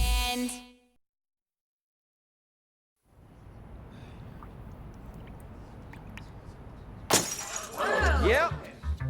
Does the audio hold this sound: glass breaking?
yes